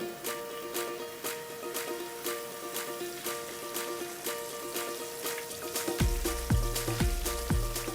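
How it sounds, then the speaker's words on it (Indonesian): Hot oil crackles and sizzles steadily as yellow fish fries up close, with a few dull knocks toward the end. "Saya juga akan menggoreng ikan kuningnya ini."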